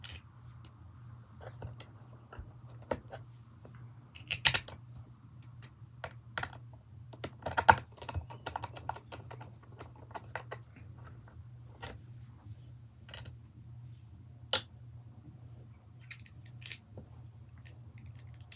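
Screws being driven by hand into the underside of a Kirby Sentria vacuum during reassembly: quiet scattered clicks and light ticking scrapes, irregular and close, with a steady low hum beneath.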